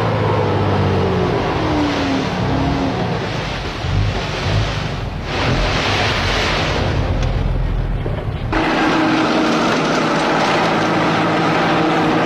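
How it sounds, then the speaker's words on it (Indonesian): A heavy truck hauling laterite for road construction roars loud and close, rumbling and straining steadily, with a brief dip in the middle before the noise surges again. "laterit diciduk dan diangkut dengan truk ke jalan yang sedang dikerjakan"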